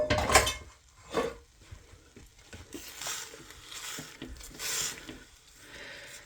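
A spoon stirs chicken country gravy in a pot with soft, irregular scraping and knocking strokes, quiet and close, broken by brief pauses.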